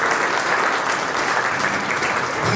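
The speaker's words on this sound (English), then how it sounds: "A round of applause for him, please." Audience applause for Colonel Pinto during a St Joseph's College Nainital alumni visit: a dense, steady wash of many hands clapping, loud and sustained throughout without pause.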